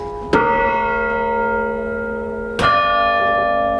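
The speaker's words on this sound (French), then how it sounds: "Essayer sur une grosse cloche, le son est peut-être plus intéressant." A large church bell in the Saint-Michel belfry rings out loud and close, struck twice with a long resonant hum decaying between the strikes.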